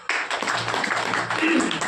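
An audience at a meeting of farmers claps, a short burst of scattered hand claps mixed with a speaking voice.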